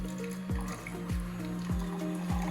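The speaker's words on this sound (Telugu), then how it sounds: "హాట్ వాటర్ నొక్కితే ఓన్లీ హాట్ వాటర్ వస్తుంది" A tea and coffee vending machine dispenses hot water, a soft, steady trickle into a cup with a faint machine hum behind it, close and quiet, with no voices.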